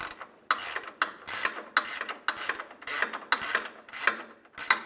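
Ratchet cranking a motor mount bolt into a captured nut on a Honda Element, a close run of bright rapid clicking strokes in bursts with brief pauses, no talk.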